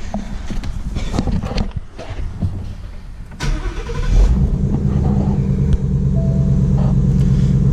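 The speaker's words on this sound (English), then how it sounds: "So if I turn the car on," A 2016 Ford Mustang GT California Special V8 cranks and fires up, a brief starter whir followed by a loud, deep rumbling idle that settles into a steady close-up drone.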